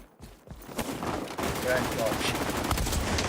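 Rapid gunfire bursts in the online shooter XDefiant, sharp repeated shots over dense game noise and background commotion, with a voice briefly under the action.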